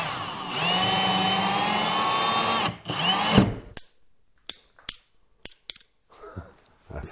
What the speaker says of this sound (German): Hier drehe ich einfach eine Schraube hinein mit Beilagscheibe